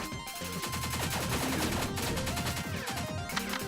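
Rapid, continuous bursts of game gunfire from Pineapple Smash Crew crackle in dense rhythmic volleys, moderately loud with a few short pauses.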